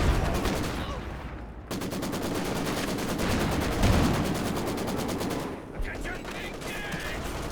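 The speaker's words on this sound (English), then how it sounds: "Constantly battling against the machine guns that are there." Sustained rapid machine gun fire in Company of Heroes 2, a World War II strategy battle, rattling steadily in dense repeating bursts with a brief lull, loud and continuous over a busy battle din.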